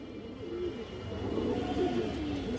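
Low, bubbling coos from pigeons near at hand roll on steadily for a couple of seconds, soft and continuous, with no talking over them.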